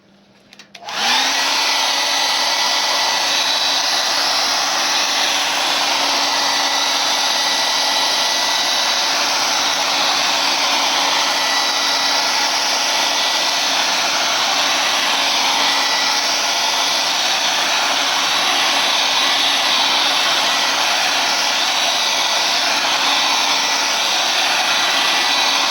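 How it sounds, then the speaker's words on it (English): Blow dryer running steadily and loudly for the whole stretch after a quick start-up, a constant airy whoosh with a low hum, used to set wet spray-bottle paint color on artwork; no talking. "go ahead and get the blow dryer out. I want to set this color where it is."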